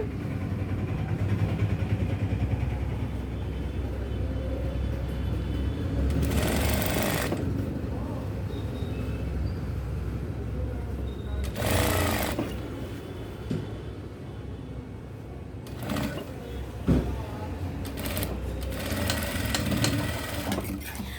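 A sewing machine stitches cloth from the reverse side, running in a continuous mechanical whir for long stretches with several short loud bursts as the stitching speeds up.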